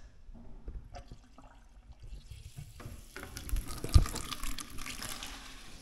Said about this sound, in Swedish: då ska vi ta och släppa på ventilen här och se om man håller någorlunda tätt